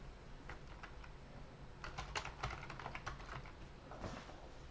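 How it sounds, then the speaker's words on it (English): Quiet keystrokes as a password is typed on a computer keyboard while setting up a Raspberry Pi, a scattered run of light clicks in short bursts over faint background hiss, no voice. "I will click to my home network and type in my password"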